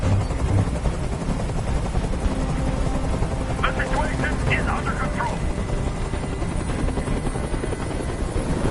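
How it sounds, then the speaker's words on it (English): Throughout, a hovering helicopter in the video game Detroit: Become Human gives off a loud, constant rotor drone, and a voice speaks briefly over it partway through. "Tell that helicopter to get out of here."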